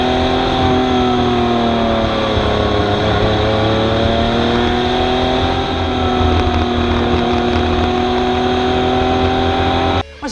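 Yamaha OX99-11 supercar with its 3.5-litre V12, detuned to 400 horsepower for road use, runs with a loud, steady engine note that holds sustained tones, rising slightly mid-clip before cutting off abruptly at the end.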